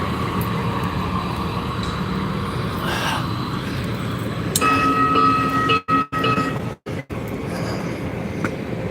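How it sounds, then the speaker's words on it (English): A train rolls along the tracks in the Five Points area with a steady, loud rumble. Thin squealing tones join partway through, and the sound cuts out briefly a few times near the end. "Looks like the train's moving on."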